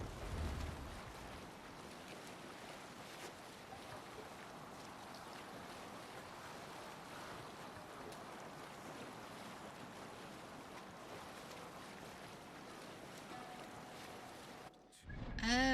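A sailing boat moving over ocean waves, a steady, fairly quiet rush of water and wind that holds evenly and then cuts off abruptly near the end.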